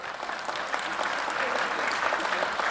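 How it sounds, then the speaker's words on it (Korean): An audience claps at an agriculture future-innovation forum, a full, sustained wash of applause from a large room, fairly loud and unbroken, with no talk over it. "저 박수 한번 부탁드립니다."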